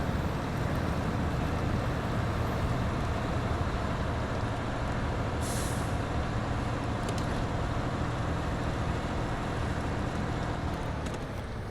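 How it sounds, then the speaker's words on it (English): Freightliner M916A1 truck in SnowRunner, a modded heavy military tractor pushing through a dip, its engine a steady, loud, unbroken drone with faint clanks, no talk over it. "this Freightliner can push through it"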